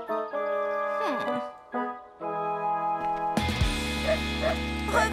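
A small dog yips and barks in short bursts with whining, pitched tones, then a louder burst of mixed noise takes over toward the end.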